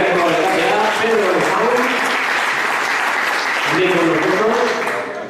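Loud, sustained applause from an audience welcoming guests at an award ceremony in Navarre, dense clapping filling the whole stretch and tapering slightly at the end.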